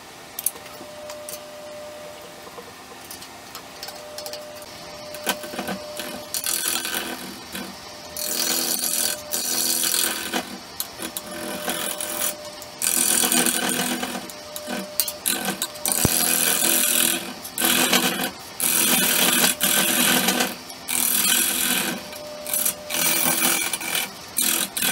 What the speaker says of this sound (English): Let's get it on the lathe.